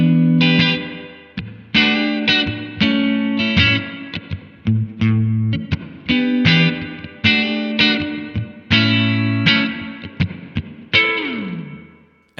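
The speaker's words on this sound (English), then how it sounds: "How about some of that spring reverb?" Crunchy electric guitar chords and riffs through a Blackstar Amped 2, drenched in springy reverb, ending on a bent note that slides downward and trails off.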